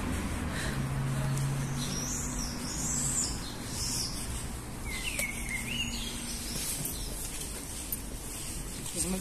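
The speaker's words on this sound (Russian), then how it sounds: "Но птицы, конечно, здесь поют." Birds sing on a residential street of old houses among tall trees in Krasnodar, a few faint chirps and warbles over constant street noise and a low hum.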